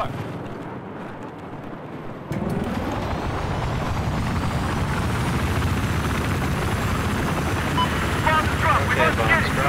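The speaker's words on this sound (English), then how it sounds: "Let me take the chopper, actually." A helicopter in the video game Battlefield 4 roars into a loud, continuous rotor drone after a brief quieter lead-in. It holds steady and close for the rest of the stretch.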